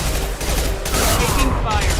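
Heavy gunfire in a firefight in Mass Effect 2 Legendary Edition, rapid overlapping shots and booming impacts over a thick low rumble, loud and close, with game voices mixed in.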